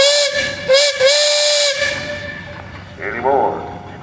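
A steam engine in a parade lets out several loud, shrill whistle blasts with hissing steam, the first blasts short and choppy, then one long sustained blow, with someone talking over the tail end.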